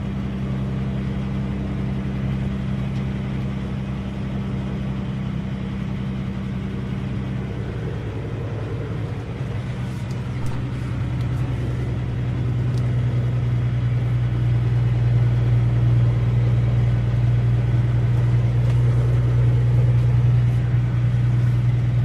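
Inside the cab of a road train truck on a delivery run in Perth, a loud, steady low engine drone and road rumble hold throughout, with the pitch rising slightly partway through.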